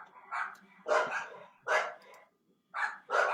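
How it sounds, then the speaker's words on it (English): Dogs barking in sharp, close bursts, about five or six quick barks in uneven clusters with short gaps between, loud and without talk. "The dogs are going crazy here, as you can tell."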